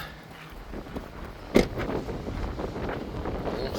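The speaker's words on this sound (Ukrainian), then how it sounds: "сьогодні вітер такий піднявся" Wind buffets the microphone in low, rumbling gusts, with a brief thump partway through and no talking.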